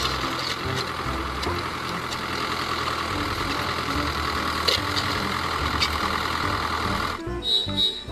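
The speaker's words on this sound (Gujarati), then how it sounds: "ટ્રેક્ટર આપણને ખેતરમાં ખૂબ ઉપયોગી થાય છે." A farm tractor engine running steadily, a loud continuous chugging rumble with a metallic rattle, then a sudden change near the end as other noises cut in.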